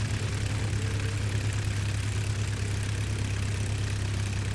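Simulated 1909 aircraft engine in Flight Simulator X, throttled down for a landing approach over the English Channel: a steady, loud low droning hum with propeller noise, constant throughout with no voices.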